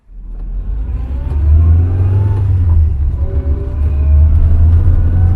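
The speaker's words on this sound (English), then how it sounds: "I missed that sound of the A series gearbox." An Austin Allegro engine pulls steadily as the car drives off, its low hum rising with revs and a faint A-series gearbox whine running underneath, close and continuous.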